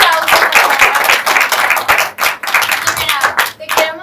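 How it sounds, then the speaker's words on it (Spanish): Close, loud clapping from a small audience at a campus talk in León, Guanajuato, sharp individual claps in an uneven flurry with brief dips, and a few voices underneath. "Un aplauso."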